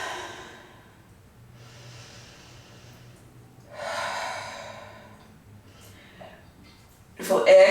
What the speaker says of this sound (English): Big deep breaths in.